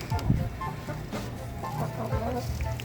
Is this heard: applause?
no